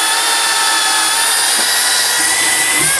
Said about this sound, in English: I'm going to put my drill bit through on each corner where the lines meet.